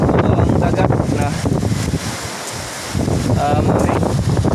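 Strong gusts of wind buffet the microphone with a loud roar, and surf is faintly mixed in beneath the rushing noise.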